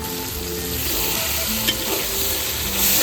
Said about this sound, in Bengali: রসুন ভালো করে ভাজা হয়ে গেছে,